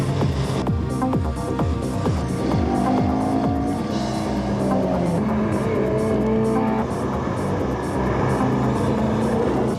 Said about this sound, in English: 3-litre Ford Capri seemingly revelling in the damp conditions